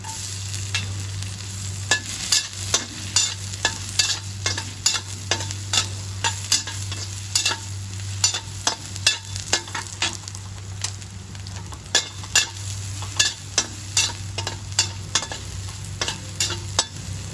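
Garlic sautéing in a pan while being stirred, with a steady sizzle and frequent sharp clinks and scrapes of a utensil against the pan in an irregular rhythm, up close with no talking, over a constant low hum.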